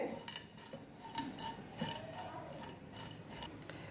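Cashew and almond pieces stirred in hot ghee in a pan for kheer, with a steady soft sizzle under repeated metallic scrapes and clinks of a spoon against the pan, close and moderately loud.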